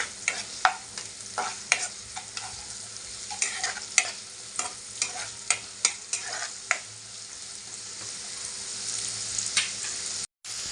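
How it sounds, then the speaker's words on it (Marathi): Masala with tomatoes fries in oil in a pan for a river mussel curry, a soft sizzle under a rhythmic series of spatula stirring scrapes and taps, close and fairly loud, then easing off near the end. "मी व्यवस्थित मिक्स करून घ्यायचं त्या तेलात थोडं फास्ट होतं"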